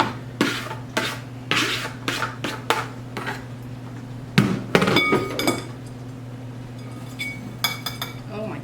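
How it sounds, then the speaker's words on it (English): Broccoli salad ingredients being scraped and tipped from one bowl into another storage bowl, with repeated clinks and knocks of a utensil against the bowl in irregular bursts over a steady background hum. "I'm gonna go ahead and transfer all the salad ingredients into this other bowl"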